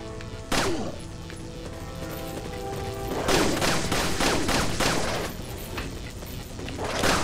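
Gunfire in the video game Resident Evil 4, a series of loud, booming shots, some single and some bunched close together, ringing over a steady backdrop of game sound.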